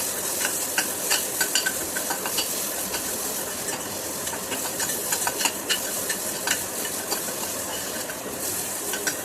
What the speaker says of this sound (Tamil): தக்காளி கொஞ்சம் நல்லா வதங்குற வரைக்கும் நம்ம கொஞ்சம் பிரட்டி விட்டுட்டே இருக்கணும்